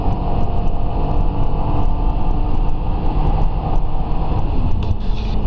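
A Hyundai Tucson 2.7 V6 DOHC engine runs on LPG through a STAG QMAX gas system, giving a steady, loud, low rumble at a constant pitch with no talking.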